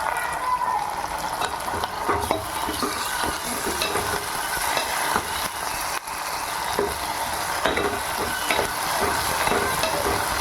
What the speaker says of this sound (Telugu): జింజర్ గార్లిక్ పేస్ట్ పచ్చి వాసన పోయే వరకు వేయించుకోవాలి